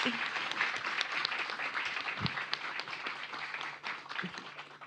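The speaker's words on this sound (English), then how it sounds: "can we please give a round of applause for the performance tonight?" Audience applauding after a piano performance, a dense wash of clapping with a few sharper individual claps and faint voices, gradually easing toward the end.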